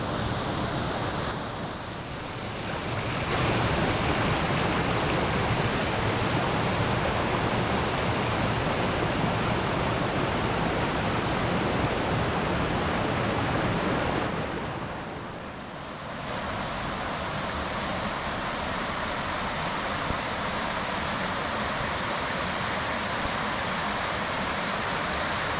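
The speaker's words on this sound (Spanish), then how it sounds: "Vaya pared de agua, qué chulada." A tall wall of water pours down on the Pedras river in Galicia, roaring as a steady broadband rush that stays loud and close throughout, dipping briefly twice as the position shifts.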